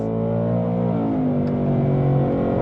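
A Ford Mustang GT Premium Performance accelerates hard, its engine note rising in a strong, steady roar that climbs through the revs, loud and close, with no voices.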